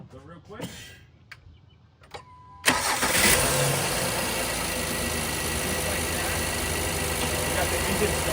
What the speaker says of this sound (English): We got the engine started up